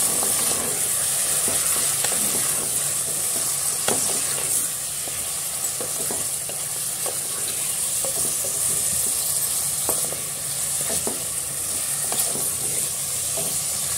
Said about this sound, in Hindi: अब इसमें हम गोश्त डाल देंगे, गोश्त को भी हम अच्छे से पका लेंगे।